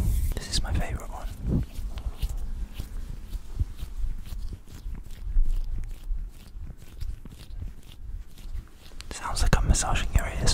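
Fast ASMR hand movements, with skin rubbing, brushing and light tapping right up close, a dense run of crisp swishes and soft crackles that swells again toward the end, with no speech.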